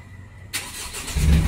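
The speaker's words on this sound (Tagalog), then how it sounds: "So try nating start yung auto." A car engine cranks and catches after a short quiet stretch, rising into a steady low rumble toward the end, heard up close with no talk.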